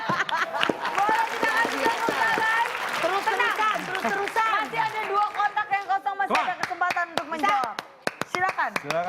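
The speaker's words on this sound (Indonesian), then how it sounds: "Boleh kita kasih tepuk tangan" A studio audience at a comedy show claps, with sharp irregular hand claps scattered through the clip and thickening near the end, heard under lively talking from the people on stage.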